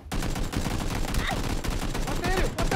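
Dense, rapid bursts of gunfire in PlayerUnknown's Battlegrounds, constant and loud, with faint voices buried in the noise.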